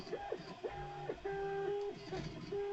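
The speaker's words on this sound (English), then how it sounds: "with the printer sounds in the background" A Prusa i3 clone 3D printer runs close by, its stepper motors whining in shifting tones with a quick rhythmic stutter of moves and pauses, steady and moderately loud.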